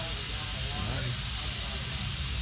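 A 1901 Conrad steam car, its burner fired by gasoline, gives off a loud, continuous steam hiss up close, a steady broadband rush with a low rumble underneath and voices faintly mixed in.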